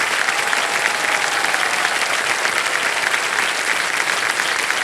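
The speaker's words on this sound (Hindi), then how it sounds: "तालियां बजती रहें इनके लिए।" A studio audience on the Indian quiz show Kaun Banega Crorepati breaks into sustained, dense applause for a contestant's win, loud and even throughout, with no speech over it.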